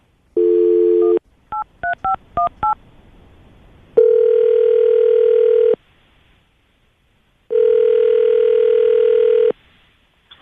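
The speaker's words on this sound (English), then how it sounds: "I'm going to call her right now, okay?" A telephone call being placed: a dial tone, then a quick run of touch-tone DTMF digits, followed by two long ringback tones separated by silence, all clean and loud.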